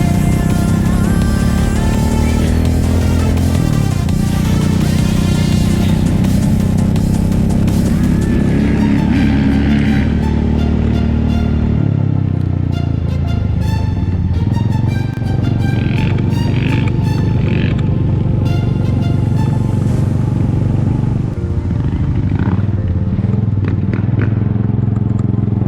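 A 2021 Honda CRF450RX motocross bike rides a circuit track at about a quarter throttle, its loud, continuous engine drone rising and falling through gear changes, close up with clattering and rushing wind and no talk.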